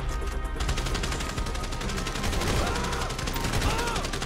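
Gunfire during a police shootout in GTA V on Xbox 360, a continuous barrage of rapid shots and bursts packed tightly together, loud and dense throughout with no pauses.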